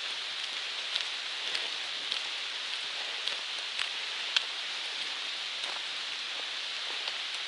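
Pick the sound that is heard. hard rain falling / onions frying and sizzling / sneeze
hard rain falling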